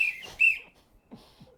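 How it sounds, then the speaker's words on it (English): A whistle blown in a TV broadcast studio gives two short shrill blasts close together, followed by faint low murmuring. "Bloody whistle!"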